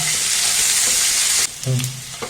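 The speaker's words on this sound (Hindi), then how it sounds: "इन सभी सब्जियों को डालने के बाद हम फ्लेम को हाई कर लेंगे, हाई फ्लेम पे इसे भूनेंगे" Mixed vegetables with ginger and carrot stir-frying on high flame for vegetable masala rice, a loud steady sizzle that drops off abruptly midway, followed by softer stirring and scraping.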